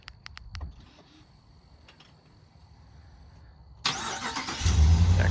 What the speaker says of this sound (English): You have remote engine start.